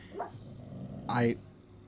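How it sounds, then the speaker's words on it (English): A dog lets out two brief, muffled whimpering yelps in its sleep, the second louder and more drawn out. "Having her doggy dreams."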